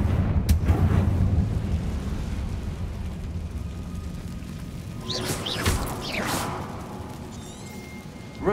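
A Confringo spell explosion in Hogwarts Legacy bursts sharply right at the start, then fades into a long rumbling tail, with faint voice-like cries rising briefly later.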